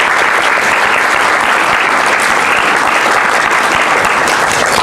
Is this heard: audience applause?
yes